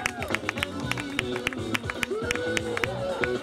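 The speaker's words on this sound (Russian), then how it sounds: "Для тебя эти аплодисменты" Crowd at a summer dance battle jam claps and cheers amid music and babble, with sharp rhythmic beats and voices mixed into a busy, lively scene.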